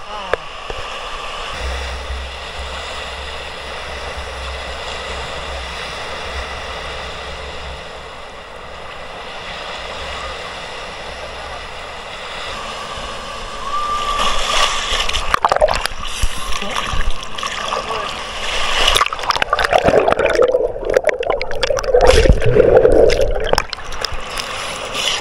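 Surf at Varkala beach in Kerala washes and splashes, a steady roar that swells louder in the second half with breaking-wave bursts, mixed with wind and people talking nearby.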